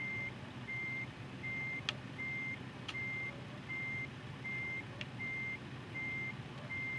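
A truck reverses in American Truck Simulator, its backup alarm beeping in an even repeating rhythm over a low engine rumble. A few sharp clicks sound in between, and nobody speaks.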